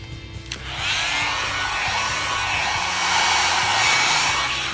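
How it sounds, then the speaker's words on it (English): A hot air brush blow dryer starts up and runs with a loud, steady airy whoosh and a faint electric hum underneath. "it is using a round brush and a blow dryer at the same time"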